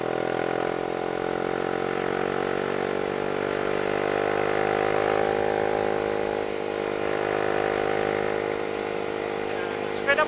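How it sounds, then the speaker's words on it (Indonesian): A motorcycle used to haul oil palm fruit, its engine running steadily throughout, a close buzzing drone with someone talking over it. "Sepeda motornya unik coy ya."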